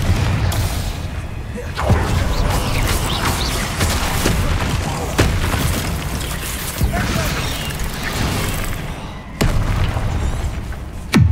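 Bombarda and Confringo explosion spells in the video game Hogwarts Legacy set off loud booming blasts with sharp onsets, separated by a dense rumbling, crackling din that carries on between them.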